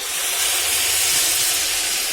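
Steady loud hiss of steam filling the whole clip as water is added to snake gourd in a hot pan, a continuous sizzling rush, with no talking.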